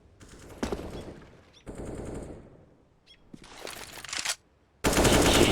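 Counter-Strike gunfire rings out in several separate bursts, with sharp single shots and a rapid automatic spray. A loud sustained volley closes the stretch.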